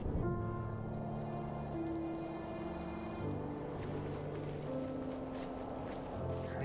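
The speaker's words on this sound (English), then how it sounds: "It's raining now." Steady rain falls on surfaces, a constant hiss of drops, with soft sustained musical tones underneath.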